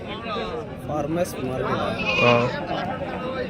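Goats bleat at a crowded livestock market in Galivedu, close, loud calls mixed with people talking and bargaining all around.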